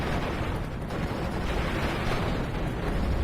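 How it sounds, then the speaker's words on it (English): Dense battle noise from Steel Division: Normandy 44, a WWII Normandy strategy game, during a village assault: continuous rumbling gunfire and explosions blend into a loud, unbroken roar with no separate shots standing out. "There's gunfire everywhere."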